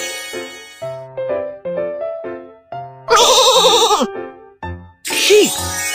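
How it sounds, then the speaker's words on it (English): Two loud, wavering sheep bleats, synthetic and game-like, following a short cheerful jingle of plinking tones, from a children's panda school bus game hearing test. "Sheep!"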